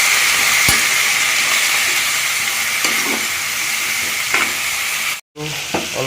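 Ash gourd and potato frying loudly in a hot pan with steady sizzling hiss, spatula stirring scrapes, and a brief dropout near the end.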